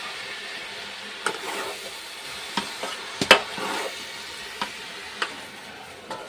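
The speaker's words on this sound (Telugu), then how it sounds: "ఇప్పుడైతే టమాటా వేస్తున్నాను" Tomatoes added to a pan of cauliflower fry sizzle with a steady frying hiss, broken by a few sharp clinks and scrapes of stirring; close and moderately loud, with no talking.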